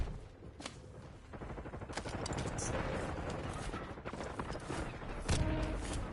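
Gunfire during a battle in a video game, dense rapid bursts of automatic shots and scattered impacts running continuously at moderate level, with a sharper boom near the end.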